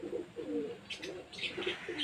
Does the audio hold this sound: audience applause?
no